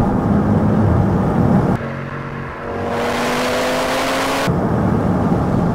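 Audi RS3 accelerating hard, a steady loud engine drone with rising tonal whine, briefly dipping mid-run as it shifts before the roar returns at full strength, no talk.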